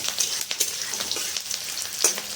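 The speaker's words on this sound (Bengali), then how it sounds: "ছোট্ট একটা পেঁয়াজ কুচানো দিয়ে দিচ্ছি।" Chopped onion sizzles in hot oil in a pan, a constant bright crackle close up, with a few clinks and scrapes from stirring and no talking.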